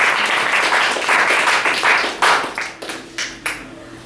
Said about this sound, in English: You just got to clap